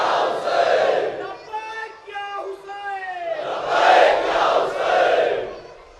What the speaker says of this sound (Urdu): صلوات بھیجے بر محمد و آل محمد